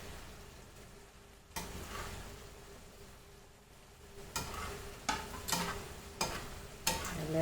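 Rawas fish hitting a pan of mustard masala, village Bihari style, sets off a steady loud sizzle, with sharper spatters and stirring scrapes after the midpoint; no voices.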